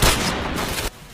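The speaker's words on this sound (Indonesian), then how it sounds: "cara nembak double Kris sama seperti sebelumnya" Dual Kriss S.V submachine guns fire in a video game, a dense, loud burst of rapid automatic shots that runs for about a second and then cuts off abruptly.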